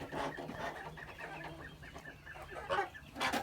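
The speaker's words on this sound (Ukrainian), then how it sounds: "Ось такі то в нас наші гуси-бутуси." Faint honking and clucking calls from geese, several short cries in a loose run, somewhat distant and quiet.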